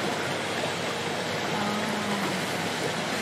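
Hot water pours steadily from a tap into a jacuzzi, a dense continuous rushing splash that stays even and close throughout, with no talking.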